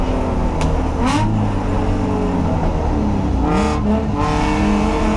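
A BMW E30 race car climbs a hill on track during a three-hour endurance race, its engine droning loud and steady as it accelerates, with rising pitch sweeps as it revs through the gears and a passing whoosh near the end.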